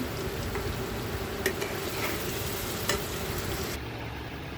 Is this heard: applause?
no